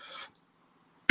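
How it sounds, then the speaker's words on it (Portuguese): A single close, sharp cough bursts out and cuts off into silence, followed by the abrupt onset of another cough at the very end. "Desculpa aí as tossidas, tá, gente?"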